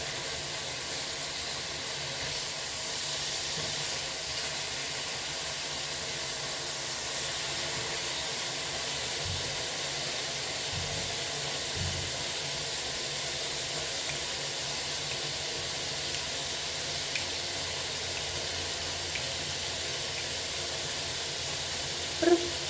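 English muffins fry in an oiled, salted pan with onions, giving a steady, even sizzle and hiss throughout, with a few faint small pops and clicks toward the end.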